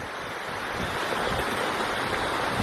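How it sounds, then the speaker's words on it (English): Snowmelt streams and small waterfalls along the Pacific Crest Trail near Strawberry Creek make a steady, broadband rushing, close and continuous with no pauses or talk. "there's so many little streams because of all the snow melt. So we got little waterfalls everywhere."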